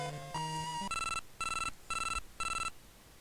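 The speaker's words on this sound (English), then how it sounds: "Well, the phone is ringing." A phone rings in the bootleg Game Boy video game Telefang, with a short electronic jingle followed by four evenly spaced bright chiptune ring bursts, clear and alone.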